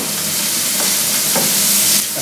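Food sizzling and being stirred in an induction wok, a loud, steady frying hiss with faint scrapes of stirring, no voices.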